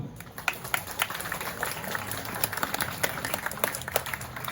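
Scattered applause from an audience at a Balinese Calonarang temple performance at Pura Gunung Lebah in Ubud, fairly quiet and loose, with uneven individual claps over a low crowd murmur.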